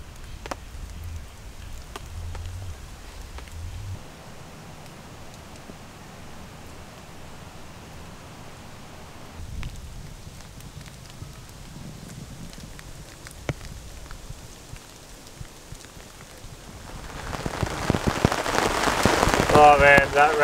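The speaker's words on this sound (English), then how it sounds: "that rain is really starting to come down. It is absolutely pouring." Steady rain hisses on a tarp throughout, swelling into a loud, dense downpour near the end, with scattered sharp drips and taps on the surface, at a campsite using a traditional Australian swag.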